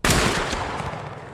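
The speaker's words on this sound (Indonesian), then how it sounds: "Tembakan pertama hanya menyerempet sedikit dari tubuh mereka." A single loud, close gunshot from a pistol duel in John Wick: Chapter 4 cracks sharply and then trails off in a long, booming echo.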